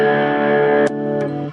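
Electric guitar through an amp's distortion channel, sustained chords ringing loud and close with a couple of sharp pick attacks, then fading out at the end.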